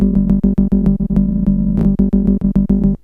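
A 2002 MicroKorg synthesizer plays a steady arpeggio of evenly spaced notes, the last few stretched longer and the final ones tightly compressed, loud and alone with no voices.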